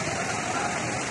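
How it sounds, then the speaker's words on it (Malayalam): Floodwater from a swollen river rushes past the back of a house amid landslide devastation, a steady, dense broadband roar with no break, close and even in level throughout. "പുഴ ഇതിന്റെ ഈ വീടിന്റെ കഴിഞ്ഞ ഭാഗത്ത് കൂടെയാണ് പുഴ പോകുന്നത്."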